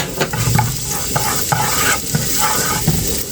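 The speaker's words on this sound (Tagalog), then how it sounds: "mainit na yung ating mantika. Ang bawang." Garlic hits hot cooking oil for spicy sisig, sizzling and frying loudly and steadily close by, with repeated scraping strokes of a stirring utensil against the pan.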